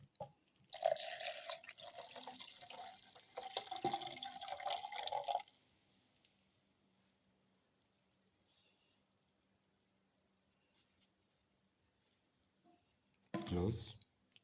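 Milk being poured into a blender jar while making a plum and winter melon milkshake, a close splashing pour for several seconds, then near silence, and a brief second burst of sound near the end.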